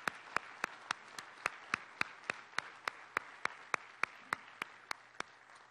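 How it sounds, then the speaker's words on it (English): Sparse, rhythmic clapping at a city council meeting, about three claps per second, faint and thin as if from a small group or a single pair of hands. "Let's give them another round of applause,"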